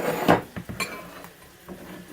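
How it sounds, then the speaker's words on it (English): Cooked shrimp for garlic shrimp scampi are scooped from a pan into a bowl, with a few close metallic clinks and scrapes of utensil on cookware, the first one loudest, followed by lighter taps. "take my shrimp off, put it in a bowl"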